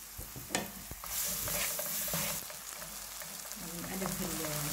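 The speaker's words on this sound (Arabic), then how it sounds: "ننزل بقى بالبصل كده، ناخده تلويحة صغيرة خالص" Onions frying in a pan for ketchup and hot pepper pasta, a soft continuous sizzle with stirring scrapes and a few knocks of the spoon, close but fairly quiet, with no talking.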